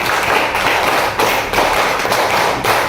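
A class of first-grade children claps hands loudly and rapidly in rhythmic bursts, a dense close-up patter of many hands together.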